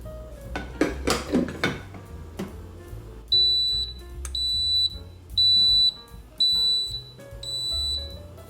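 A Cuisinart coffeemaker gives its alert tone: a series of loud, high, evenly spaced electronic beeps, about five, following some clattering of kitchenware, with no talk.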